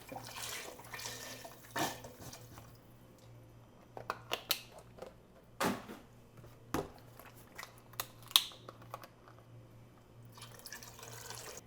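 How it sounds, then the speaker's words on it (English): Vegetable broth poured into a soup pot for corn chowder, a quiet liquid splashing and trickling with scattered drips and light clinks near by. "So we're going to do all the vegetable broth."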